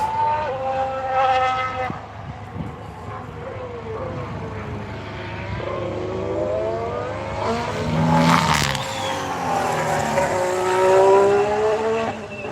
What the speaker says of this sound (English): Got the Haas coming through. Sounds angry, the Haas.